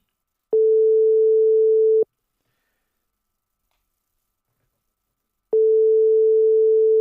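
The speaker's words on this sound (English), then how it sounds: "Phone is still ringing." Two long, identical ringback tone bursts separated by a few seconds of silence, the repeating ring pattern of a phone call waiting to be answered.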